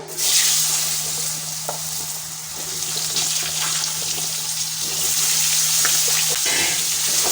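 Potato pieces fry in oil already tempered with cumin seeds after fish was fried in it, giving a continuous close sizzle with occasional stirring scrapes and a low steady hum underneath.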